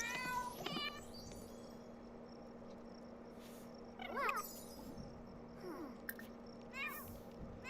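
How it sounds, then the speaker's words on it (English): A cartoon cat in a video game gives several short, high meows scattered across a few seconds, heard faintly from a screen over a quiet room hum. "You see the kitty on the screen?"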